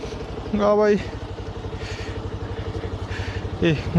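A motorcycle engine idles with a steady low throbbing rhythm on a mountain road in Kusma, Parbat, Nepal, while someone talks over it nearby.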